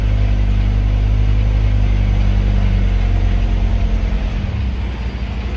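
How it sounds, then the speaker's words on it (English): Car racing up from behind a tanker truck on a road, loud steady engine drone with a revving, mid-pitched motor that swells close then eases off toward the end. "Now here comes one car like racing up"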